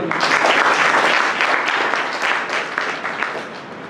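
Loud, sustained applause from a church congregation during a sermon on the Holy Spirit, many hands clapping densely and continuously without a break.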